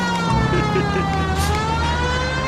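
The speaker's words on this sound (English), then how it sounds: "Get out of my way, I have my siren on." A police car siren in the video game L.A. Noire wails steadily and loudly throughout, its pitch drifting slightly over the rumble of the car's engine.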